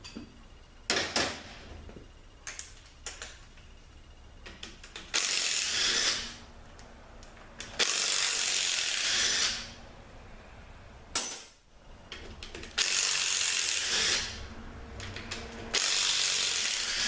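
A ratchet wrench backs out the pump bolts on a 62TE transmission during a teardown, with bursts of rapid clicking several seconds long separated by short pauses and scattered isolated clicks, loud and close with no talking.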